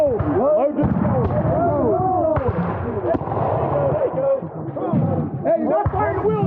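Muskets fired at a Battle of Camden reenactment of the American Revolution, a few sharp scattered bangs standing out amid loud shouted voices and crowd noise.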